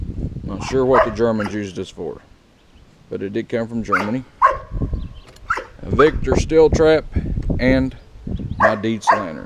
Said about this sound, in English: Apologize for the dog barking.